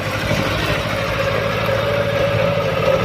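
A Hinomoto E23 two-cylinder tractor engine idles and chugs steadily, loud and close, with a constant low throbbing rumble throughout.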